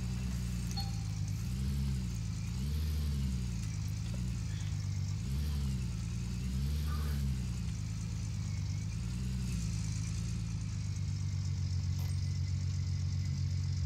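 A game truck's mid-pitched engine hauls a trailer in Gold Rush The Game, droning steadily close up with a few gentle rising revs and swells as it pulls forward, no talk.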